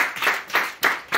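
A worship congregation at a praise service claps in acclamation, sharp hand claps landing in a steady, evenly spaced rhythm, four or five strokes close and clear.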